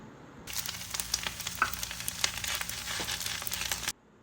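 Kimchi frying in a pan after a sesame-oil sauté, with a steady close crackling sizzle that starts suddenly and stops abruptly.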